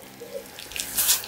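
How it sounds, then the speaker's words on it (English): Water sprays from a hose down a horse's face during a wash, a short hissing gush that swells toward the end, close and steady with no voices. "just spray so it's going down his face"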